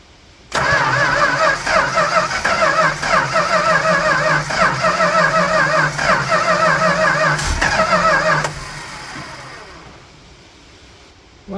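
A 1966 Dodge Coronet engine cranks and catches almost at once, then runs loud and steady at a rough idle for about eight seconds before cutting off and leaving quiet.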